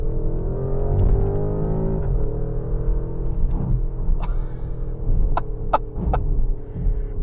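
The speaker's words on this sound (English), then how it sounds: "Downshift." A 2024 Porsche Cayenne Turbo GT engine drops a gear, its loud, close harmonic drone shifting pitch and throbbing, with a few sharp crackles near the end.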